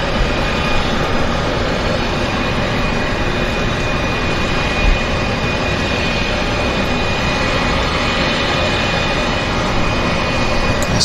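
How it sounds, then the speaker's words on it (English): Floatplane taxiing across Vancouver Harbour toward the takeoff area, its engine a loud, steady droning roar with a constant tone that continues throughout, with no talking. "As the aircraft bounces its way to the takeoff area"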